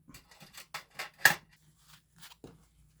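Scissors snip through fabric for a sling in a quick irregular series of crisp cuts, close and quiet, with a sharper snip near the middle.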